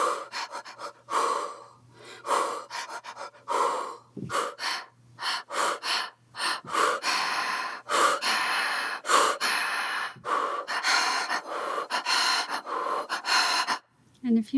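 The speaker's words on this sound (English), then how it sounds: "So this is Breathing Patterns 1" Breathing effects from a sample library: a steady series of gasps, pants, snorts and wheezy breaths, close and fairly loud, repeating in irregular rhythmic patterns.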